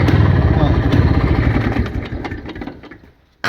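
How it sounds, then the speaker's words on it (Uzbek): A motorcycle engine runs loud and close with a throbbing mid-pitched rumble, then fades and cuts off near the end, while someone talks over it. "mana mototsikl ishlashini."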